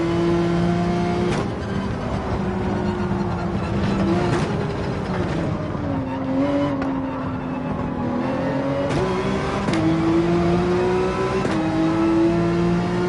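A race car engine in Gran Turismo 7 revs hard and continuously, its pitch rising and dipping through gear changes. The steady, loud, close drone runs the whole time with no talk.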